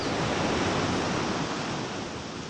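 Sea waves wash in a continuous, broad surf roar that stays full and near, easing slightly toward the end, with a little wind against the microphone and no voices.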